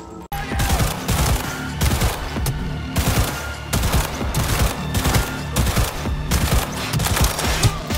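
Dense, rapid gunfire from the guided-bullet smart pistol Skippy in the video game Cyberpunk 2077 fills the clip with loud, close shots. The bursts come in quick clusters with brief pauses between them.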